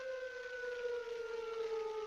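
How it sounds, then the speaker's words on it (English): Tornado warning sirens wail steadily in a storm video game, a loud sustained tone slowly drifting lower in pitch across the whole stretch, with no talking. "I'm just gonna change the volume to 1 because of these sirens"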